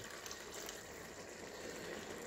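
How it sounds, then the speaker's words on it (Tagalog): Water poured into a cooking pan while fish and potatoes are being prepared, a steady broadband rushing and splashing that runs unbroken for the whole moment at moderate level, with no talking. "Maglalagay tayo ng konting tubig."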